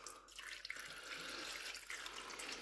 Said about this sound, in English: we're gonna pour it into the coffee maker